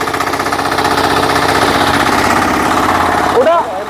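A Kama 5000 engine on a tiller runs loud and steady with a chugging, rhythmic vibration throughout, shifting briefly near the end as the clutch and gear are worked.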